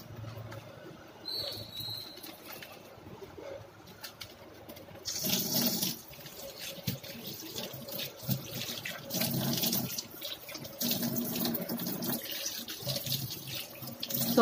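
Water is poured and splashed onto jelly soap being worked into foam by hand, giving irregular splashy sloshing of moderate loudness, with a quieter lead-in before it starts.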